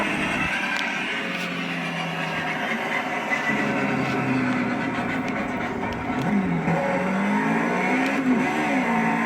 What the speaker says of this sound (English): You see how it rev limits after every shift?